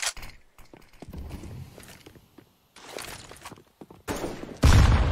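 A grenade bursts in a Counter-Strike match on the Inferno map, a sudden loud blast near the end after scattered footsteps and gunfire, with a fire grenade also in play.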